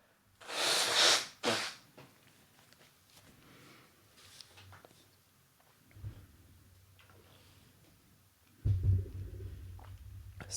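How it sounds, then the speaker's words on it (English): A person blows their nose with two loud, forceful bursts close to the microphone, followed by quieter sniffing and handling noises and a low thump near the end. "Blow my nose while I'm here."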